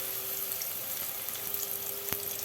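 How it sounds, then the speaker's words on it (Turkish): Chopped onions sizzle in a spoonful or two of sunflower oil, a steady close hiss of frying that runs unbroken throughout, with a brief sharper crackle near the end. "Bunları bir güzel kavuracağım."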